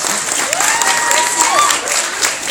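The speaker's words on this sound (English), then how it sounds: "Let's give Mark a round of applause." A room of audience members claps after a performer is introduced, a dense, loud round of applause, with a whistle or voice sliding over the clapping partway through.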